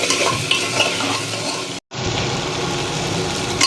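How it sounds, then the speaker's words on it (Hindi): Arbi (taro) stir-fried with chilli powder, salt and spices in a pan, a loud close sizzle with stirring scrapes, broken by a brief silent gap midway before resuming. "बस अब सबको अच्छे से फ्राई कर लेना है सब्ज़ी के साथ।"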